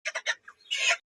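Chickens clucking and squawking close by as they are handed over for sale, a few short calls followed by a longer agitated cackle, loud and alone without talk.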